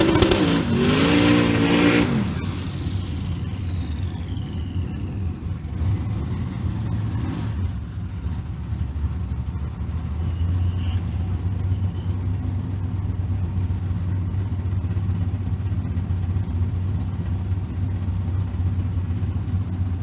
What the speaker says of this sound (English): Camaro in the 9-0 category. He's lined up next to Matt Potter